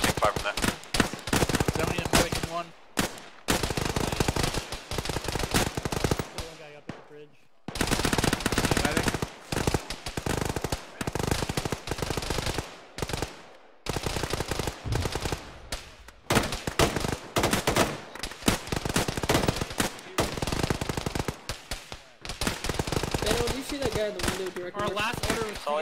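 Arma 3 gunfire from a night raid by the ShackTac group, with sustained heavy automatic bursts and dense fusillades that go on almost without a break and drop out only briefly. Voices can sometimes be heard under the shooting.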